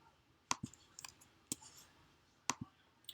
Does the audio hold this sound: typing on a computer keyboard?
yes